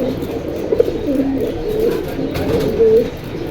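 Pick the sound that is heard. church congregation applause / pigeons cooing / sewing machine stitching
pigeons cooing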